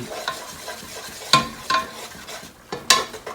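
Meat browns in a pan for pasticcio, a soft low sizzle broken by a few sharp scraping stirs of a utensil against the pan.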